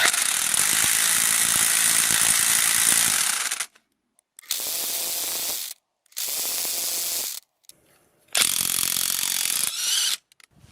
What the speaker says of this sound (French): Là, c'est une clé à choc 1050 watts, 350 Nm.